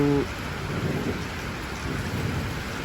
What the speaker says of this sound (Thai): ฝนตกพายุเข้านะครับ